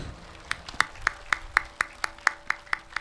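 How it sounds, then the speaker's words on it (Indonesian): At a large outdoor Ansor youth rally in Trenggalek, one person claps at a steady rhythm, about a dozen sharp claps close by, with little crowd sound behind. "Tepuk tangan yang meriah"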